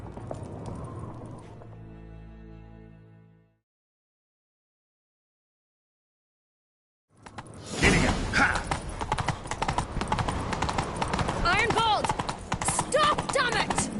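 Rapid clip-clop of galloping horse hooves in The Witcher 3: Wild Hunt on PS5 Pro starts after a silent gap, fast and driving, mixed with other noisy action sounds and occasional voices.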